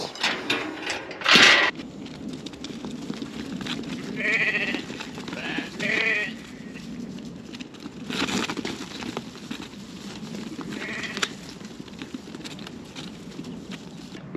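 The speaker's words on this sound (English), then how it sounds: "Them Scotchies, I do love them sheep." Scotch Blackface sheep bleating at a livestock market, several distinct bleats from nearby animals spread across the clip over a constant background of shuffling hooves and pen noise.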